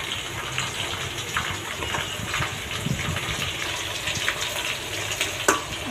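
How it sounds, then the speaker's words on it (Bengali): Garlic and ginger paste frying in oil in a pan gives a close, steady hissing sizzle with soft crackle and spatter, and a brief louder burst near the end. "রসুন বাটা দিয়ে এটা ভেজে নিচ্ছি তেলের সাথে"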